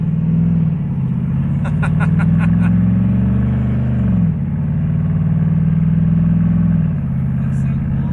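A V8-swapped Mazda and a twin-turbo LS-swapped Buick driving while towing trailers, a loud steady engine drone with a slight pitch rise and fall as the car cruises.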